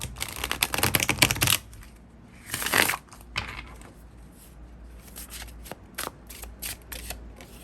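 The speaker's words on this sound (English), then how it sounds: "Alrighty, last shuffle." Tarot cards shuffled by hand: a burst of rapid riffling, then a quieter pause and scattered soft taps and flicks as the deck is handled.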